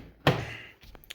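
A car door on a 2000 BMW 328i shuts with a single solid, close thunk, followed by a few faint light clicks and rattles.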